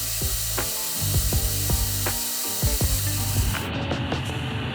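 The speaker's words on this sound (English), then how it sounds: "I cut off some excess material on the bandsaw" A bandsaw cuts excess steel off Damascus bars, giving a loud, steady grinding drone with a rhythmic rasp and repeated clicks as the blade works through the metal.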